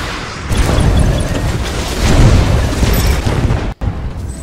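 Heavy machine-gun fire in the VR game Archangel, a dense, continuous roar of booming bursts that swells and dips for about four seconds, loud and close, with a brief cutout near the end.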